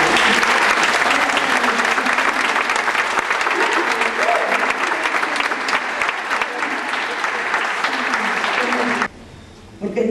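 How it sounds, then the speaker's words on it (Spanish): An audience applauds Lucy Solvartía at a spoken-word performance, a loud, dense, sustained wash of clapping that runs for about nine seconds before dropping away abruptly near the end. "un aplauso para Lucy Solvartía"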